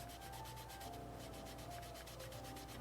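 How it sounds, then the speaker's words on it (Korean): Finish is rubbed into the sanded surface of a handmade card wallet with light, skimming horizontal strokes, a faint, rapid, rhythmic scratchy swishing repeating evenly throughout, with no voices. "충분히 젖어 들어가도록 문질러 주시고 이것도 이렇게 수평으로 너무 꽉 누르지 않고 이렇게 스치듯이 문질러 주시면 됩니다"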